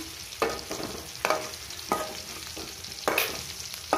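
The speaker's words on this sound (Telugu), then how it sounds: "ఇలా అన్నీ మధ్య మధ్యలో కలుపుతూ ఉండాలి మంచిగా వేగేదాకా." Boda kakarakaya (bitter gourd) fries in oil in a pan with a soft continuous sizzle, while a spoon scrapes and tosses the pieces in about five distinct stirring strokes. No one speaks.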